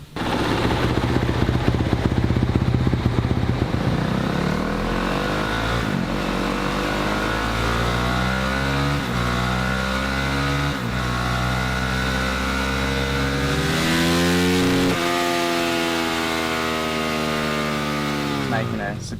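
A car engine fitted with a new exhaust pipe revs hard on a dyno, the loud sustained roar climbing steadily in pitch through the gears with brief shift dips before peaking and dropping off.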